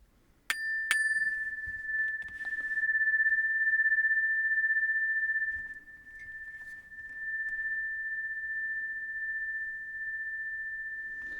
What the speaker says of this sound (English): This is called his energy chime.